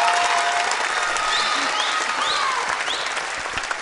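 An audience on a French-language television show applauds a child contestant, sustained dense clapping for several seconds, with a few faint whistles and voices riding over the crowd.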